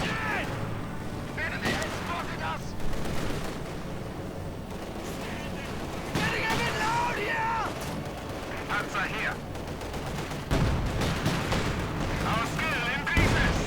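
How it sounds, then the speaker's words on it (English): Several StuG assault guns fire at one target in a WWII strategy video game, with repeated sharp cannon blasts and battle noise across the stretch alongside other game effects. "Having several Stugs firing at the same target."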